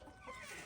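Chickens cluck over a pile of wild mixed greens and weeds picked from the yard, a short, close burst of fowl sounds with no talk.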